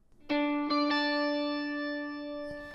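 A clean electric guitar chord rings out with a few picked accents, sustaining smoothly with a soft reverberant tail from added reverb.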